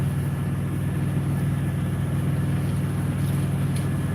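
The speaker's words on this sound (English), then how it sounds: "I hope y'all can hear me over the noisy truck next door and the fan in the back" A truck idling next door gives a steady low engine rumble alongside the constant whir of a fan indoors, an unbroken drone with no talk over it.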